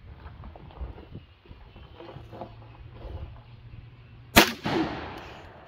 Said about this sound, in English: I'm going to fire the shotgun of my brother here, Anthony.